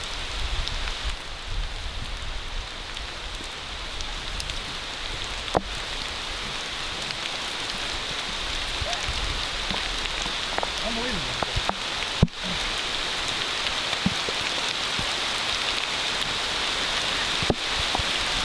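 Steady rain falls and hisses on a surface, with scattered sharper drops and taps breaking through the constant wash.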